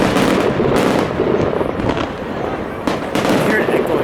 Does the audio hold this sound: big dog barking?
no